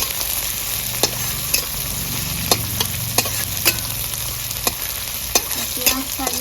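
Onion sizzles steadily in hot oil with dry red chillies and whole cumin, cooked in a rural-style kitchen. Sharp clicks from a stirring utensil cut through the constant frying hiss at irregular intervals.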